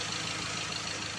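A 2014 Ford car engine runs steadily at idle, a continuous close mechanical drone with faint knocking texture and no voices.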